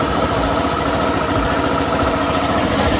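A small engine freshly tuned up with a new spark plug and air filter runs steadily at a close, even idle, with a continuous low rumble and no talk.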